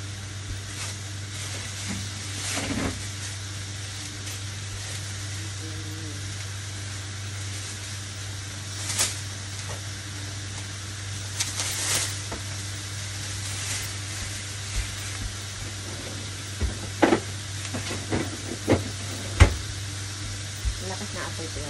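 Yakisoba noodles sizzle in a hot pan over a strong flame, a steady hiss running throughout with occasional sharper crackles and stirring clatter, heard up close with no speech.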